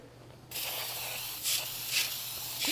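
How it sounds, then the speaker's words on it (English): A sudden aerosol spray of flour-containing baker's spray hisses loud and close into a baking pan, continuing steadily with a few stronger bursts as the can is sprayed in pulses. "we're also going to put some baker's spray inside"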